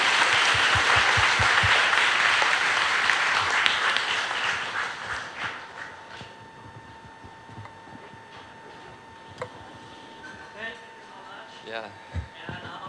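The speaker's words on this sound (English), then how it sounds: "please join me to give a round of applause for the speakers" Applause for the speakers at a university talk show on artificial intelligence: a steady round of clapping from the audience that fades after a few seconds into scattered claps, with people talking as it dies away.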